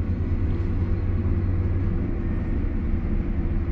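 A small crane hums with a steady low mechanical rumble as it loads a car near a ship, a constant drone without talking.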